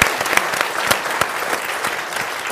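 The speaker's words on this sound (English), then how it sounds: "A round of applause." An audience at a Women in Leadership event on the U.S. Congress applauds steadily, with close, crisp claps forming an even wash throughout.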